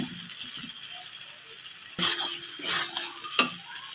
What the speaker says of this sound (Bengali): ফুলকপিগুলো এবার দিয়ে দিচ্ছি।